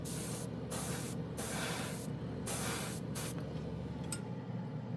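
An airbrush fed by a portable air compressor sprays paint in a steady hiss, with several short breaks where the trigger is released, all without talk.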